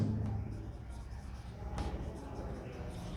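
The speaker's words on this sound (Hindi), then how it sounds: "मैं एक और लिखता हूं" Chalk or marker writing on a board during an English grammar lesson makes a steady scratchy rubbing under a teacher's ongoing talk, with one sharper tap partway through.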